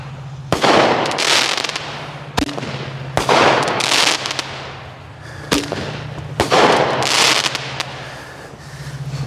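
A consumer crackle candle firework fires three times, each launch thump followed by a loud crackling break. A low, steady hum sits underneath.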